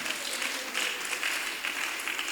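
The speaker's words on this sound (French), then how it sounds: "Est-ce qu'on peut applaudir pour cette dame?" Dense, steady applause from an audience at a preschool teaching guides launch event in the DRC, greeting a woman, continuous and fairly close throughout.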